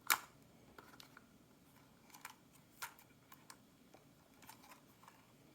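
The arms of a DJI Mini 2 drone are unfolded, giving a series of faint, close plastic clicks and snaps spaced irregularly over several seconds in an otherwise quiet room.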